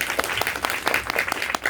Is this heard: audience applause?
yes